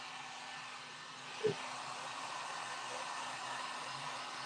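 Heat gun drying custom candy paint, a steady broad airflow roar running without pause from start to finish, with one brief low thump partway through.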